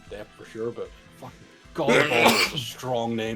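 A person sneezes sharply and loudly partway through, breaking up casual conversation between people talking before and after it.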